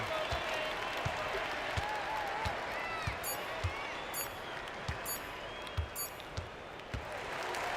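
Crowd cheering and applauding in an NBA 2K26 basketball game, a sustained wash of distant clapping and crowd noise with a regular thump of a bouncing ball beneath it.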